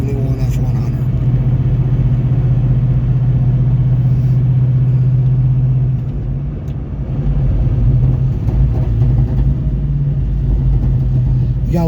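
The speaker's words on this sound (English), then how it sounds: "You gotta love the cackle of a Flowmaster exhaust when you downshift." A 1971 Ford F100 pickup with a T56 Magnum gearbox and Flowmaster exhaust rumbles steadily while driving. The engine note dips briefly mid-clip as it downshifts, then picks back up, loud and close throughout.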